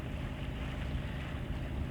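A sailboat motors under engine with the mainsail up on the Sound of Mull in Scotland, a steady low rumble mixed with wind buffeting and water rushing along the hull, continuous and fairly loud.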